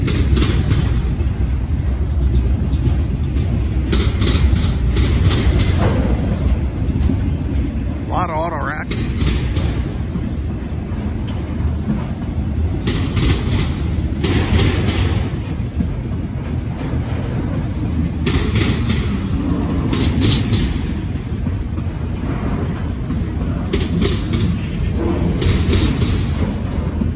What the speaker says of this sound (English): these trains are running on the NS main line in Decatur